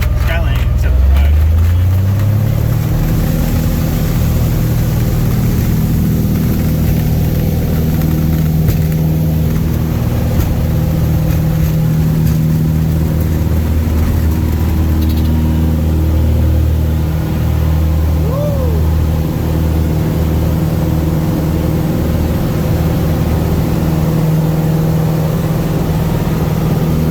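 Cessna Skylane small propeller plane in flight, its engine giving a loud, steady cabin drone that holds through the whole stretch, with voices murmuring faintly underneath.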